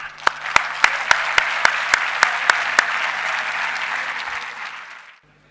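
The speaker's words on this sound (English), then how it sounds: "I'll give you a clap in this regard." Applause from a crowd, with loud single claps near the microphone in an even beat over the first three seconds, then fading and cutting off.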